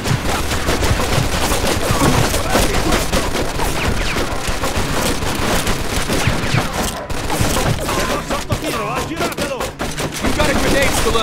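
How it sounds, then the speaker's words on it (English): Sustained machine gun fire in the Mafia 2 shootout, loud and nearly continuous rattling bursts with speech mixed in. "Looks like we found the machine gun."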